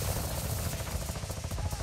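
Helicopters flying in Call of Duty Warzone 2.0 DMZ produce a steady, loud rotor rumble with a throbbing low pulse that continues without a break, and there is no talk over it.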